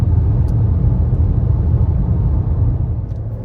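A Mercedes W124 car is being driven, its engine and road noise forming a steady, close, heavy low rumble that holds without a break and has no talking over it.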